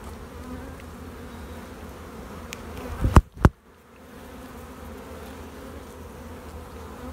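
Honeybees hum around a hive frame during a beekeeping inspection, a steady close buzzing swarm throughout, broken midway by two sharp knocks as the frame is shaken.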